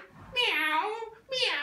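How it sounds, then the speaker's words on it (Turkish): A cat in March heat meows twice, loud and close, a long drawn-out yowl followed after a short gap by a second, shorter cry. "Miyavmış la."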